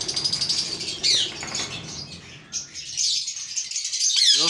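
Indian ringneck parrots in a breeding setup flap their wings in bursts and give a few sharp chirps, close by and fairly loud, with no talking.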